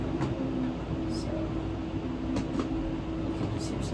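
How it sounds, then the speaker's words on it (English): Cars pass outside an open window on a hot day, a continuous broadband traffic rumble with faint swells, heard at a distance in a room. "you can just hear some background noise of the cars"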